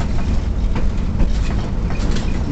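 A vintage 1923 trolley streetcar in Washington, PA rolls along rails with a continuous, close, heavy rumble and faint rhythmic clatter.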